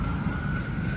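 An ambulance siren on a city street corner sounds as a steady, loud wailing tone over a dense low rumble of traffic, continuous through the short moment with no voices.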